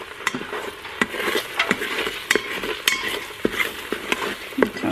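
Chicken fried rice frying and sizzling in a pan while a utensil stirs it, with irregular scraping clicks against the pan over a steady close crackle.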